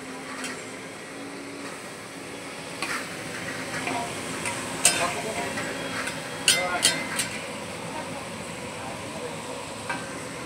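Food roasts in hot oil in a pan with a constant low sizzle, broken by occasional sharp clicks of stirring and faint voices in the background.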